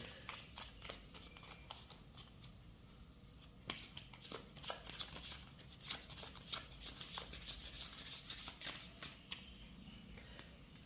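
Tarot cards being shuffled by hand at close range, a steady run of soft riffling and flicking bursts that grows busier midway, with no talking.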